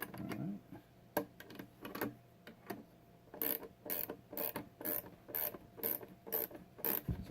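Ratchet wrench tightening carriage bolts on a wooden Adirondack-style chair, a few scattered clicks early, then a fast regular series of sharp ratcheting clicks in quick bursts, close and fairly quiet.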